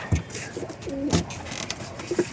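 Pigeons in a loft giving a few soft, close coos with faint rustling and small chirps in between, brief and fairly quiet.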